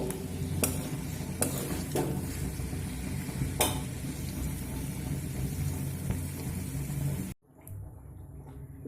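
Fried winter vegetables stirred into healthy dalia khichuri in a pot, a steady sizzle with spoon scrapes and clinks against the metal, cutting off sharply near the end to a quieter hiss.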